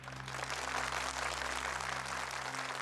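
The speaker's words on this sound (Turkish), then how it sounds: "Alkışlarınızla Ömer Turan Eser." Audience applause at a Quran recitation competition, a steady, even wash of clapping that runs for the whole stretch without a break, with a low electrical hum underneath and no talk.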